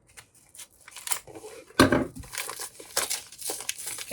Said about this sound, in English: And now I'm going to ruin it and just absolutely tear into it.